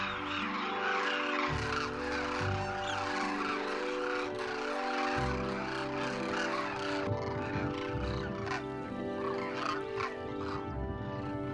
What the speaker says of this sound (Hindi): फिर ये पक्षी इस बाड़े से निकलकर गांव के तालाब की तरफ चल पड़ते हैं।